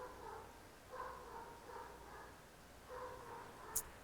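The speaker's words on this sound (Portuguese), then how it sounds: "O cachorro tá frenético, né, cara?" Faint, distant dog barking repeats in short bursts at a steady pace, heard far off indoors under a constant background hiss, with one brief sharp click near the end.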